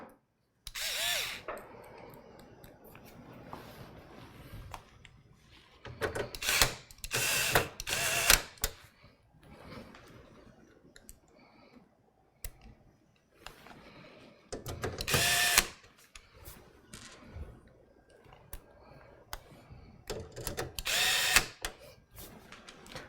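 Screws driven back into an Asus Prime X299-A motherboard inside a roomy computer case, with several loud bursts of a power driver whirring, separated by quieter handling and clicks.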